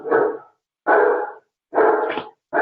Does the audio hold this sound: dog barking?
yes